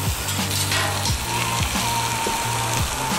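Pepper-crusted tuna sears on a hot Blackstone griddle with a steady, loud sizzle, while metal spatula scrapes and clicks recur over it.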